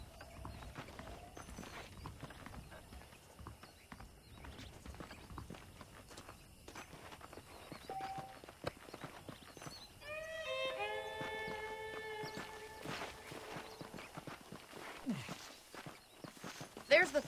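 Horses walking in the video game Red Dead Redemption give soft, irregular clip-clop hoofbeats against a busy western town ambience, with a brief whinny partway through and scattered background sounds.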